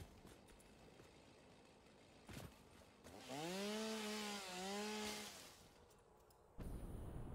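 In the video game Satisfactory, a chainsaw revs up with a rising, then falling whine for about two seconds over a steady noisy game background, with no talk.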